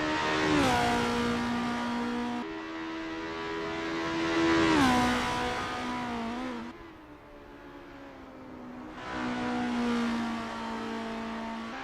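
A Formula race car in Assetto Corsa at Mont Tremblant sounds as a high-pitched engine note, revving up and dropping through several gear changes, loud and continuous, then easing off before climbing again.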